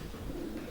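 Pigeon cooing, a soft low continuous coo from a racing pigeon loft, steady across the short moment with nothing else over it.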